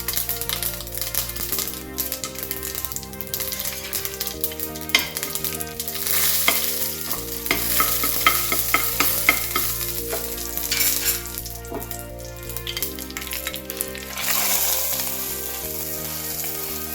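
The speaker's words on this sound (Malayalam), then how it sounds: "പിന്നെ നമ്മുടെ വറ്റൽമുളകും കൂടി വറുത്തിടണം." Dried red chillies, mustard seeds and fenugreek frying in hot coconut oil, a loud crackling sizzle with rapid sputtering pops and spatula scraping, over a steady background hum.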